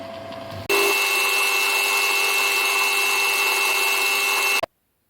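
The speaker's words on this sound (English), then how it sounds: "The piston is turned for a sliding fit in the bore." A lathe turns a bolt into a pump oiler piston for a sliding fit in its bore, a steady, loud high-pitched cutting whine with a bright ringing tone that starts abruptly, holds evenly for about four seconds, then cuts off.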